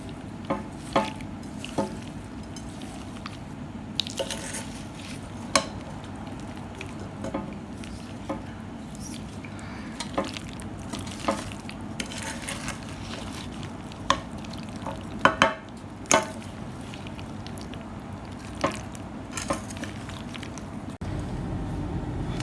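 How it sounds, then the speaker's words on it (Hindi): A spoon stirs Russian fruit and cream salad in a bowl, soft continuous mixing under a faint background hiss, punctuated by scattered light clinks and taps against the dish. "अब हम सारे को मिक्स कर लेंगे अच्छे से।"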